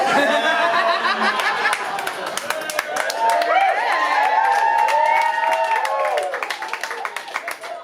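A stand-up comedy audience laughs and cheers with clapping scattered throughout, loud and continuous, then tapers off toward the end.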